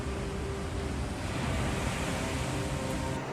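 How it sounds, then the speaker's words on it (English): Tsunami waves surging onto the mainland with white foam, a dense continuous roar of rushing water and surf, steady and fairly loud throughout. "A tsunami hits the mainland with white foam."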